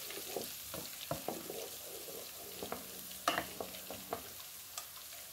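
Garlic frying in a pan for a siomai sauce with chili, a steady soft sizzle broken by scattered sharp clicks and scrapes of stirring, close and quiet with no talking.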